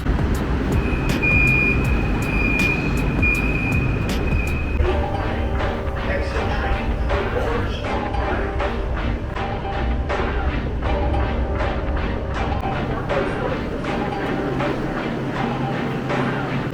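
São Paulo metro Line 5 train riding, a continuous low rumble of the car with rhythmic clicks of wheels over rail joints, a brief high tone early on, and the rumble easing toward the end.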